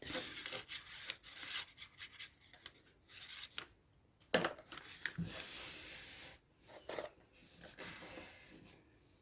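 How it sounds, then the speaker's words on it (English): Paper envelope flap pressed shut and rubbed down by hand to seal it, giving soft scratchy rubbing strokes in uneven bursts with short pauses, close and fairly quiet. "close the flap of the envelope and seal that"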